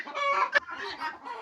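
Farm chickens cluck in a short burst, several bird calls overlapping close by, with one sharp squawk in the middle, fairly quiet and with no talking.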